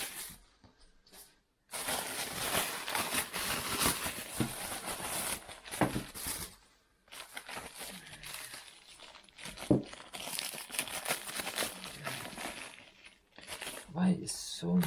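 New tools being unwrapped from plastic packaging, giving loud, close crinkling and crackling that runs in long bursts with brief gaps, and a voice heard now and then.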